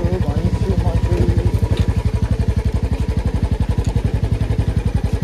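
A motorcycle coasts downhill in neutral near Suryachaur outside Kathmandu, its engine ticking over in a fast, even, close putter that runs steadily throughout.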